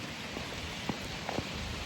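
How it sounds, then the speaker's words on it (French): Rain falling outdoors among trees while someone walks home, a steady wash of patter with a few faint footsteps and light rustles, close and continuous. "Alors là je marche sous la pluie."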